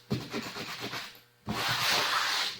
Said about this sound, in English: this is just 80 grit on a board. Hit the edges, just for mechanical adhesion. Go over them rivets.